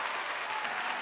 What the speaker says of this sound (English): Give Simon a big round of applause.